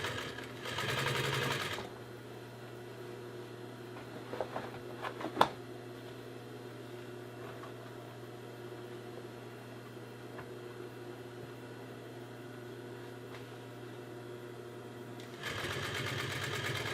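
Sewing machine stitching a half-inch seam around a rubbery-textured ottoman cover, a steady mechanical drone running for most of the stretch with a few brief clicks near the start, bracketed by louder handling noise at each end.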